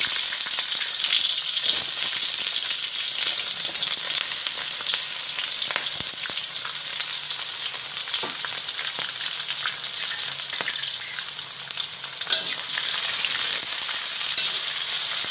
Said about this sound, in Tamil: இப்போ சின்ன வெங்காயம் போட்டிருக்கேன்